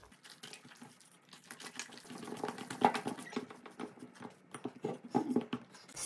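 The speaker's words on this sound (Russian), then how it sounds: "И вмешиваем масло в тесто." Hands mix melted butter into soft, sticky bun dough in a bowl, making faint, close, wet squelching and slapping sounds in an irregular rhythm throughout.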